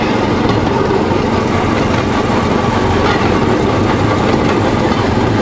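A rail draisine running along the Alapaevsk narrow-gauge railway, heard as a steady, loud, close engine drone mixed with continuous rumble and rail noise, with no break in the sound and no voices.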